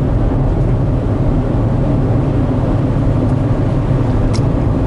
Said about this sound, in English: We're still driving.